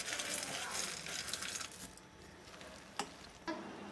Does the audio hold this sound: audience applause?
no